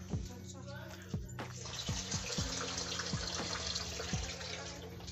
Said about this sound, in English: Rice washing. Thorough rice washing. In a cup.